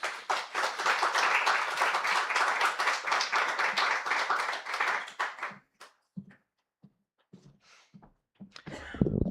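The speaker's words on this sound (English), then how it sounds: "Round of applause for all our poets this evening." A small audience at a poetry reading applauds the poets with steady, close clapping for about five seconds, then scattered single claps and small noises as it dies away.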